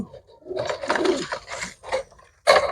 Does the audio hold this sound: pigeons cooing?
yes